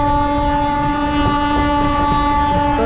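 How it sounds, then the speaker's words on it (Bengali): A passenger train from Sealdah pulls out of Krishnanagar bound for Amghata, its horn sounding in sustained tonal blasts over rumbling rail noise close by. "আমঘাটার উদ্দেশ্যে যে ট্রেনটা শিয়ালদা থেকে এসছে সেটাও ছেড়ে দিল"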